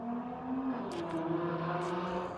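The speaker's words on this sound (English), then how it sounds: "Loud cars and stuff outside." Road traffic outside, with cars passing and engines droning and revving at a steady, fairly loud level, muffled through the walls throughout.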